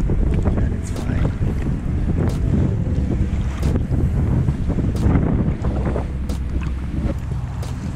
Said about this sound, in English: I don't know how much wind we have right now